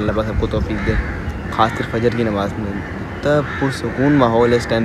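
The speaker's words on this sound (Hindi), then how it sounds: "कौवे बोल रहे हैं" Crows cawing around dawn prayer time in a calm early-morning setting, their calls mixed under steady close talking that runs through the whole stretch.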